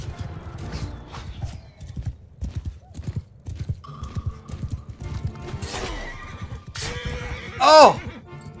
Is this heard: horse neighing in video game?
yes